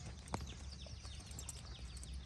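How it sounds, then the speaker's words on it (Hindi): A mare at a stud farm in rural India moves about, its hooves clip-clopping faintly with a sharp knock near the start, over steady outdoor background noise. "सत्यनारायण जी जाट, बहुत सुंदर है घोड़ी"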